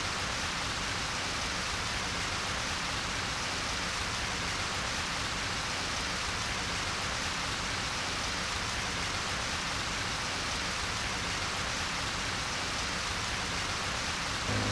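Steady rain falls in a Dreamcast visual novel, a dense continuous hiss at even loudness throughout with no talk.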